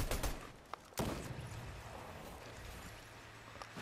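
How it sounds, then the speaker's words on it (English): Gunfire in the Fortnite video game: a sharp burst near the start and a stronger crack around one second, followed by a dense rumbling game soundscape with no talking. "There's gunshots."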